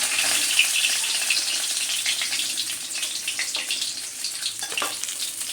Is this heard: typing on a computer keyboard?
no